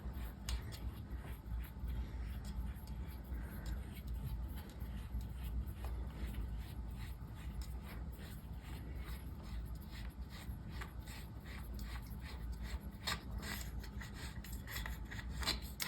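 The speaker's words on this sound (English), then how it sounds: "take one of my bolts that is now on one of these nice little handles and simply screw it into place" A bolt on a small handle being screwed into a 3D printed casing for a sock knitting machine, a steady close grinding and rasping of threads turning against plastic with rapid repeated scrapes, no talk.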